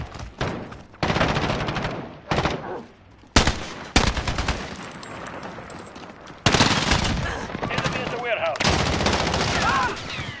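Automatic rifle fire in Call of Duty Modern Warfare, loud rapid bursts of gunfire separated by short gaps, with fast rattling volleys and some faint in-game sounds between them.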